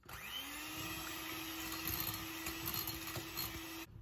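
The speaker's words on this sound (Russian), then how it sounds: "Миксер выключаем, больше он нам не понадобится." An electric hand mixer whips apple pie cake batter with brown sugar and a pinch of salt, a steady close motor whir with a high whine that runs without pause before abruptly cutting off.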